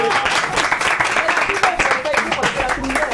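An audience on a French-language TV magazine show claps together in a brief, steady burst of applause, with voices mixed in underneath.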